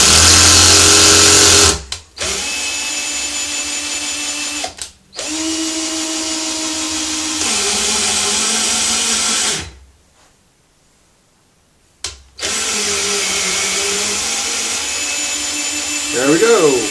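A power tool taps threads into holes during a BMW E39 EV conversion. It whines in several loud bursts of a few seconds each, with short pauses and one longer silence between them.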